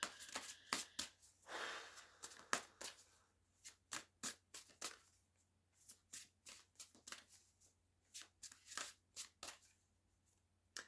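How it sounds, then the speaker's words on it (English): Playing cards are shuffled repeatedly in quick riffling bursts, close and crisp, with short pauses between each pass and no talking. "let's just shuffle these."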